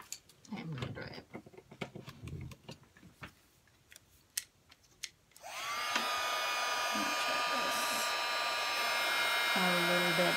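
A hair dryer blows on a wet journal page, switching on midway and running as a loud, steady whoosh to the end; earlier, quiet handling clicks and some speech come before it.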